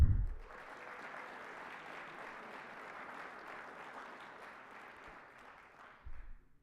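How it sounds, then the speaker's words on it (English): A graduating class at an NCOA graduation ceremony applauds its award winners: steady, dense clapping from a sizable crowd that holds for about six seconds, then tapers off with a low thump at the end. "One more round of applause for all of our award winners."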